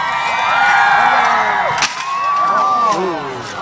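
Crowd at a medieval jousting fair cheering and whooping loudly, with excited high-pitched shouts from children and adults rising and falling over the whole stretch and a sharp crack partway through.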